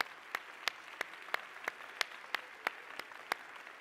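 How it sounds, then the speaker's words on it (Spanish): Clapping during a Spanish-language church service: sharp, evenly spaced claps fall in a steady beat about three per second, crisp and fairly close over a quiet background. "Dele ese aplauso fuerte al Señor si así lo cree usted."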